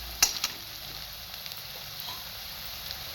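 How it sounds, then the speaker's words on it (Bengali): Onions frying in a pan give a faint, soft sizzle, with a couple of sharp utensil clinks near the start and then a quiet steady hiss. "আমি পেঁয়াজটা এইভাবে ভেজে নিয়েছি"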